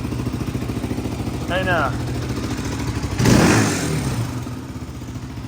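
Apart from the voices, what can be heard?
Honda 400EX engine in Polaris RZR 170 cranking and revving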